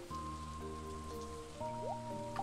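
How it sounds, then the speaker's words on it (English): Rain falls in the Stardew Valley farming video game, a soft, faint patter beneath the game's steady melodic music and chiming tones, with no speech. "It's raining."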